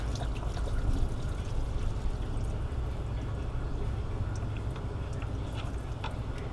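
Transmission fluid drains from the pan of a Pontiac G6 during a filter change, a steady, close pouring and trickling that runs without a break the whole time, with a few faint drips and taps over it.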